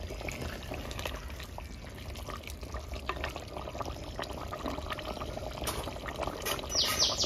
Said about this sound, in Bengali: হালকা জল দেবো যাতে লেগে না যায় নিচে